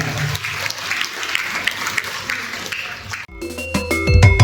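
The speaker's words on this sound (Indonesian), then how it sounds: "Tepuk tangan untuk beliau" At a political party installation ceremony in Sidoarjo, an audience claps steadily for about three seconds, then the applause cuts off and loud music with ringing tones takes over.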